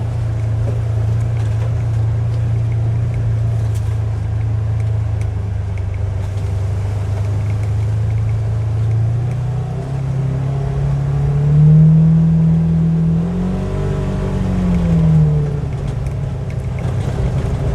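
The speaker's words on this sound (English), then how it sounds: "1000cc dual overhead cam engine is night and day difference from the old Razor 800" A Can-Am-style side-by-side ATV with a 1000cc dual overhead cam engine rides trails in Sussex, New Brunswick, a steady loud engine drone that rises in pitch as it accelerates, with no talk.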